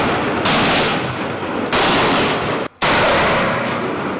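Loud, close gunfire from pistols and automatic weapons at a training range comes in dense bursts, with sharp rapid cracks blurring into sustained rattling volleys and only a brief gap near the end.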